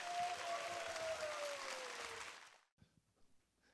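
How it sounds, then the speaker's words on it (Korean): Warm audience applause in a lecture hall welcoming a psychology professor to the stage, steady and full before fading out, followed by a few faint sounds in the near-quiet. "큰 박수 부탁드립니다."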